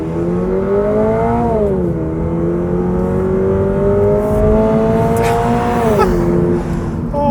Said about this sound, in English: we are actually burning out the tires